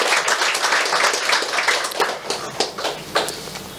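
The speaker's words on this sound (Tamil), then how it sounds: "ஒரு கரகோஷம் நம்ம கொடுக்கலாம் அதுக்கு." A theatre audience at a Tamil song and poetry recital breaks into sustained applause, a dense wash of clapping hands that stays loud and steady throughout.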